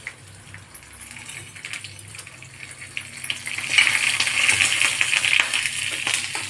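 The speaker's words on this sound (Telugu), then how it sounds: "ఇప్పుడైతే తాలింపు వేస్తున్నానండి. శనగపప్పు, మినపప్పు, ఆవాలు, జీలకర్ర, 2 ఎండుమిరపకాయలు, 2 ఎల్లుల్లిపాయ రేట్లు వేసేద్దాం." Chana dal, urad dal, mustard seeds, cumin, two dried chillies and garlic hit hot oil for a tempering, giving a steady crackling sizzle that swells louder and denser partway through.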